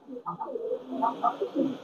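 Pakistani Teddy pigeon cooing nearby in a short run of soft, low, rolling coos.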